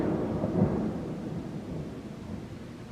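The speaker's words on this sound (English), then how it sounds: "It's thundering outside." Low, distant thunder from an approaching storm rumbles faintly and continuously, with a slightly stronger swell near the start before fading into a soft, steady roll.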